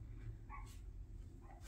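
Faint dog barks and whimpers, a couple of short yelps indoors, as if reacting to someone outside, set against a steady low background hum.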